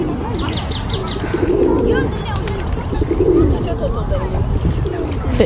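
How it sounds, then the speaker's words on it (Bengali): Pigeons cooing in a quiet London park on a calm evening, a steady run of soft, low coos repeating close by, with faint chirps and light park ambience around them. "খুব সুন্দর কবুতরের ডাক"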